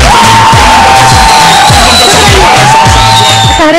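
Studio audience at a TV variety show cheering and whooping loudly throughout, with a thumping musical beat underneath.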